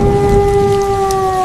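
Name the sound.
heavy stormy rain with thunder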